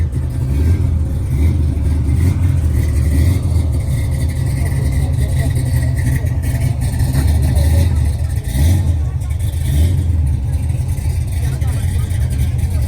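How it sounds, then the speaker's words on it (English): A car engine rumbles at a steady idle with a low, bubbling throb like a percolating coffee pot, while people talk over it at a Long Island car show. "Whenever you hear a car that sounds like a coffee pot that's percolating"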